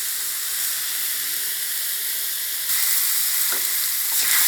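Thai eggplants, pea eggplants and chilies for green chicken curry sizzle loudly in a hot pan with a bright, continuous hiss that swells briefly as they are stirred.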